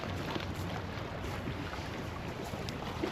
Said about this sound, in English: It's gotta be a boat.